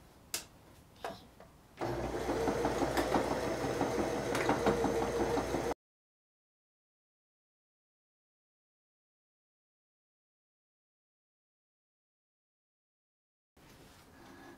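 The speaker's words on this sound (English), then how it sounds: "you're gonna just go ahead and do a back stitch in the beginning and come right down to about this pin and do a back stitch" Sewing machine running a back stitch while closing the opening of a Remy Bag from a Simplicity pattern; a steady mechanical whir lasts about four seconds between soft handling clicks, then silence, with a faint resumption at the end.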